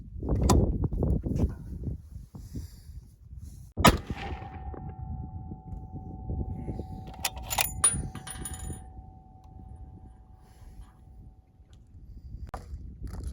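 .300 Winchester Magnum rifle fired at an outdoor range, one sharp loud report near the start followed by a long faint ring and quiet wind-like background, with a few later clicks.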